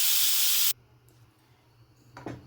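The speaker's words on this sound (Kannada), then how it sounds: "ವಿಸಿಲ್ ಬಂತು, ಈಗ 3 ವಿಸಿಲ್ ಆಗಬೇಕು" Pressure cooker cooking ridge gourd sambar lets out a loud, sharp hiss of steam for under a second, then cuts off to a quiet room with faint clatter.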